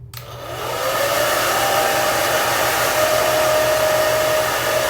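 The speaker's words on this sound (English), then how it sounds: "So let me get my hair dryer." A hair dryer switches on and blows steadily and loudly, a continuous whooshing hum with a faint whine, no voices.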